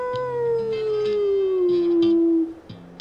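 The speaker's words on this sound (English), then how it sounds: "The largest and oldest coyote howled back to me." A coyote lets out a long, clear howl that slowly slides downward in pitch, loud and sustained, with faint thin tones beneath it.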